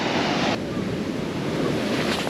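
Surf rolling onto the beach at Dhanushkodi, a steady continuous wash of breaking waves mixed with wind buffeting the microphone, loud and close throughout with no pause.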